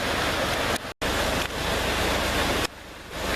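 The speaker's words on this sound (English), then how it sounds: "Pretty good sized creek." Deer Creek, a good-sized creek, rushes loudly and steadily close by as broadband water noise, cut by a sudden brief dropout and a quieter patch before resuming.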